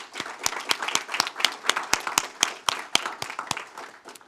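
Sparse, distinct claps from a small audience at a state board of education meeting, a few people clapping at an uneven rhythm, fairly faint and without voices.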